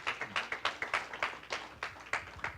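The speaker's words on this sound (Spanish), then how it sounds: "Le da su ofrenda de palmas al Señor" A church congregation claps in praise during a service, a brisk run of sharp, fairly even handclaps heard close and alone.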